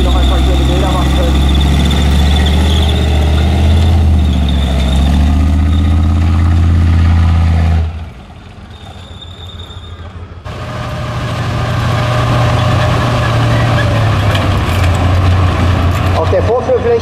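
A heavy tracked vehicle's engine roars loudly nearby on a heath display ground as it drives up a hill, dropping briefly before rumbling back up, with a voice speaking over it.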